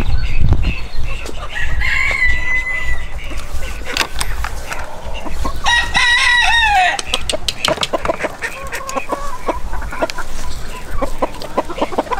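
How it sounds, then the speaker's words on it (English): A backyard flock of wild and Ancona bantam chickens, with an Italian bantam rooster crowing loudly twice among steady clucking and scattered bird calls nearby. "We have a mixture of wild bantams, Ancona bantams, my Italian bantam rooster is also running around somewhere over here."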